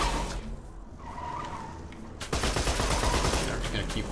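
Rapid gunfire bursts while a vehicle drives in the video game Borderlands 2. A quieter engine stretch gives way to a loud, dense volley of shots over the final seconds.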